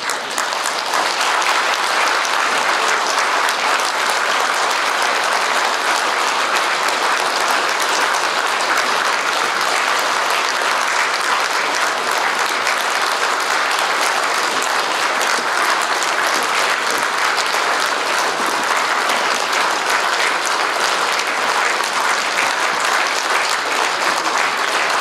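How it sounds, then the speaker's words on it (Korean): Sustained, loud audience applause at a veterans' association general assembly as the association leadership enters, a continuous wash of many hands clapping without pause or speech. "박수로 맞아주시면 감사하겠습니다."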